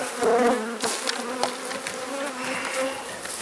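Honeybees buzz steadily during a hive inspection while a brood box is moved, a close, dense hum with a few sharper knocks and rustles from handling the frames.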